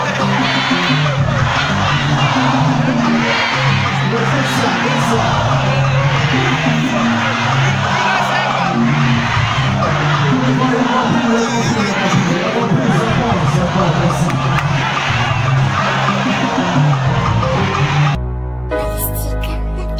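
A dense crowd fills a packed Zouglou venue during Arachiné's show, a loud continuous roar of voices, shouting and cheering that holds steady before cutting away abruptly near the end.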